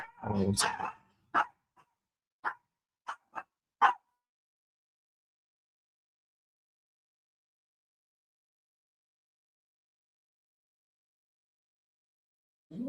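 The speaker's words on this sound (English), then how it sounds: "Somebody rang the doorbell and my attack dog decided to go ahead and go nuts" A dog barks and yips in a short burst indoors after a doorbell, several sharp barks spaced over a few seconds, fairly faint, followed by a long silence.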